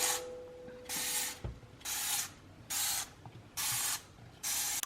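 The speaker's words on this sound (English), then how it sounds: "Spray the pan." Dawn Powerwash cleaner sprayed from a trigger bottle onto a kitchen pan, five evenly spaced hissing bursts, each about half a second long, with faint clicks of the trigger between them.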